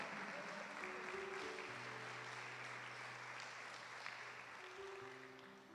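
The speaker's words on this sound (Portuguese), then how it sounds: "Aplauda ao Senhor Jesus." A church congregation claps together in a broad wash of applause with some voices mixed in. It is heard from a distance and stays steady, then thins slightly toward the end.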